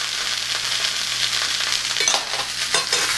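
A whole onion browning in a hot pan, a bright close sizzle with several scraping and clinking stirs near the end, no talk.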